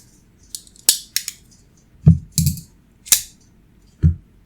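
A Spyderco Smock folding knife with G10 handle scales gives a few short, muffled twangy clicks, sharp separate snaps spaced irregularly and heard up close with no talking.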